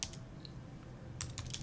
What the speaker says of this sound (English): we type in here